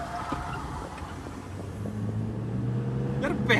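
Tata Safari and Toyota Fortuner SUVs accelerating in power mode during a drag race, a steady engine drone with rising harmonic tones as the automatic gearboxes shift, heard from inside the cabin.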